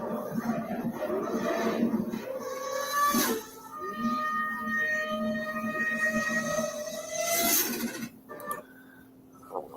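Recorded rotary engine car revving at around 12,000 RPM, a sustained high-pitched whine with rising harmonic tones that swells, dips briefly, then swells again before cutting off near the end.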